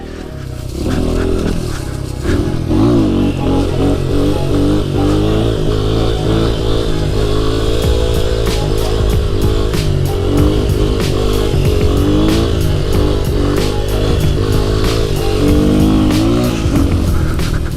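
A dirt bike engine revs hard and steadily while enduro riding through mud, its note rising and falling with throttle changes, loud and close for the whole stretch with no talk.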